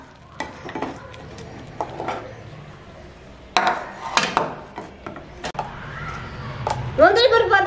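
Cashew nuts roasting in a pan for carrot halwa, with intermittent stirring scrapes and soft sizzling, the spoon knocking against the pan in irregular strokes, heard alongside a speaking voice.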